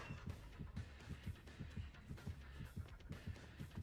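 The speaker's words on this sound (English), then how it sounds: "I'm trying to find heartbeats here." Killer heartbeat in the video game Dead by Daylight: a steady, low double-thump pulse repeating evenly throughout over a soft ambient game hum, with no talking.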